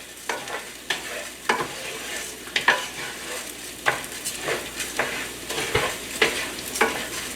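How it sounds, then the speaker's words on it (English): Rice is stirred in a hot pan, repeated scraping strokes at an irregular rhythm over a light continuous sizzle, close up and with no talking. "Gotta keep stirring."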